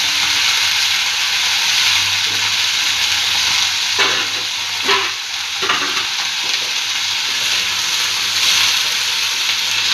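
Mint and coriander leaves sautéing in a hot pan for mint chutney, a steady sizzle running throughout with a few sharper scrapes and stirs in the middle, close and fairly loud with no talking.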